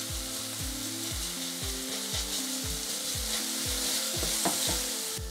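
Finely chopped onion and minced garlic sizzle in hot vegetable oil in a pan, a steady close crackle with a regular scraping stir throughout and no talking.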